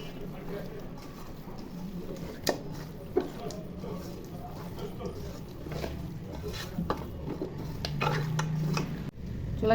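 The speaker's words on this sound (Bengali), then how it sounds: "রসুন বাটা, সব কিছু একসাথে মেখে নিব।" Meat being kneaded by hand with garlic paste and spices in a metal pot, giving soft squelching and occasional clinks and scrapes against the vessel, with faint background voices and kitchen noise.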